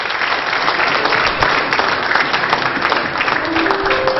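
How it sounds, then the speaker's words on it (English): A church congregation at a Pentecostal youth service claps in praise, a dense, steady wash of many hands close and loud throughout, with a faint tone entering near the end. "Give him a hand clap of praise"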